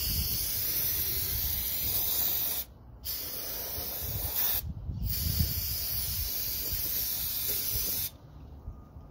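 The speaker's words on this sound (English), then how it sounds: "always use a brake cleaner to clean the valve cover gasket" Brake cleaner sprays hard onto a Mazda CX7 2.3L turbo valve cover gasket in a few long, loud hissing bursts separated by brief pauses, with no talking.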